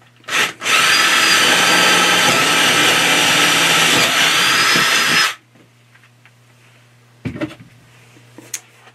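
A power drill drilling a hole for an O-scale model oil pump runs loud and steady for several seconds, then stops, followed by a few faint clicks and knocks nearby.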